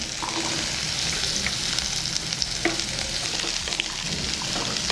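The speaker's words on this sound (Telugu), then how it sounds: "మనం ముందుగా రెడీ చేసుకున్న గుమ్మడి ముక్కలు అండ్ క్యారెట్ ముక్కలు రెండు వేయించుకుందాం" Pumpkin and carrot pieces fry in a pan for khichdi, giving a dense, continuous sizzle close by with occasional stirring scrapes layered over it.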